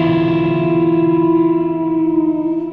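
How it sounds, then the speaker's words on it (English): Electric guitar through a pitch-shifting effect that blends a semitone interval with the main note, giving a dissonant, sustained tone with steady layered harmonics and a slight wavering, played alone. "that's mainly coming from the pitch algorithm, just blending in a semitone interval with the main sound"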